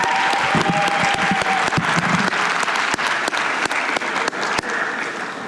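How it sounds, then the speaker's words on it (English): At a general assembly conference, a large audience claps continuously, a full, loud round of applause with a few sharper individual claps standing out near the listener and a faint cheer early on. "Please give us a round of applause."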